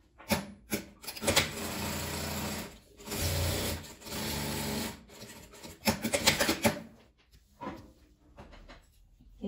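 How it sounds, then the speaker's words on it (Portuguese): A sewing machine stitching a fabric case for crochet hooks, running in several steady bursts of a second or two, separated by short pauses, fairly close and alone. "E vou passar uma costura fechando essa parte aqui."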